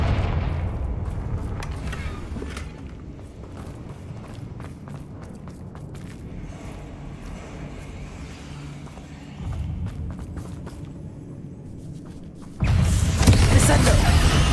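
Confringo fire spell blasts in Hogwarts Legacy burst over rumbling combat noise and footsteps, with a sharper loud explosion near the end and speech also present.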